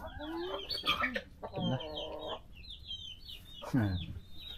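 Chickens cluck in a series of short, rhythmic calls close by, with a few louder squawks breaking through and a faint voice murmuring underneath.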